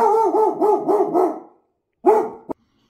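A dog barks indoors in a quick run of five loud, close barks, then a short pause and one more bark, with no talk over it.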